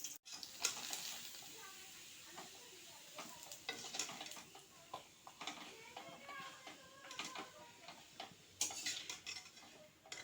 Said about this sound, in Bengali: এখন একটু পাঁপড় ভেজে নেব।